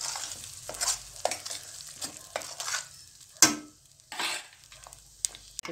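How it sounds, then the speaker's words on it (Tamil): Onions and masala sizzle in hot oil for egg masala gravy while a spoon scrapes and stirs the pan in repeated strokes, with one sharp metallic clink. "எண்ணெய் வதங்கிடுச்சு, வெங்காயம், மசாலாவை போட்டு இருக்கிறோம். கொஞ்சம் வதங்கட்டும்."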